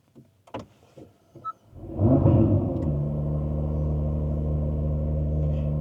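A 2017 Acura NSX (NC1) with red charge pipes starts up after a few light clicks, its engine catching with a loud burst before settling into a steady, close, deep idle rumble.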